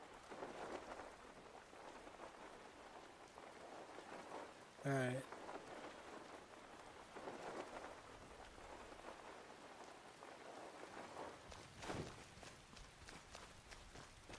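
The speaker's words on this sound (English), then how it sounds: "It's raining. Better put a hood on." Rain falls steadily in the Skyrim wilderness, a constant broadband patter with footsteps crunching along beneath it and a brief spoken word near the middle.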